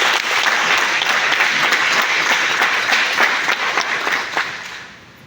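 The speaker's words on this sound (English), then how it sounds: "You all must give a round of applause to your NAC coordinator, Professor Mani." Sustained applause from an audience at a college accreditation exit meeting, steady and dense for about four seconds before thinning and fading out.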